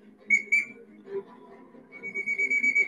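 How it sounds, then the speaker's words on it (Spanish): A traffic police whistle played remotely through loudspeakers: two short shrill blasts, then a longer warbling whistle, clear and fairly close with no talk. "activamos de manera remota el sonido del silbato utilizado por los agentes de tránsito cuando alguien estaba a punto de infringir una norma"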